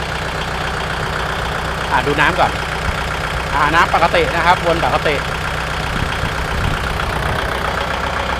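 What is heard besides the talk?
Kubota L5018 tractor diesel engine idling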